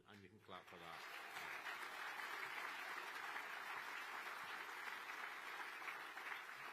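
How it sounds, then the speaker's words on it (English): After a brief voice at the opening, a large audience at a Reform UK conference rally in Chester breaks into loud, sustained applause that holds evenly for several seconds. "you can clap for that"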